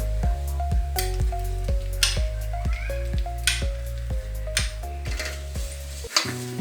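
Coconut and jaggery stir-fried in a pan for modak filling: a soft sizzle under repeated scraping and tapping of a spoon against the pan, with rhythmic stirring strokes and a background musical tone.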